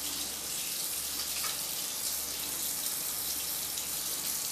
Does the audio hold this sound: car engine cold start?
no